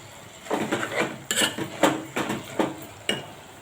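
Gongura leaves stirred in a metal cooking pot, a ladle scraping and knocking against the sides in about half a dozen close strokes, with a faint sizzle underneath.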